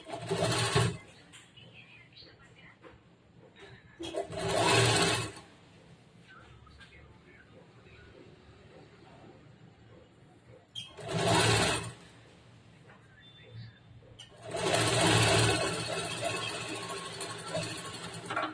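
A sewing machine stitches the lining of a blouse in four separate bursts of close, buzzing needle run, each a second or two long, with someone talking quietly in the pauses between them.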